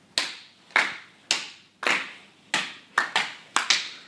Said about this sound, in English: could you please stand and give Vanessa Woods a huge round of applause?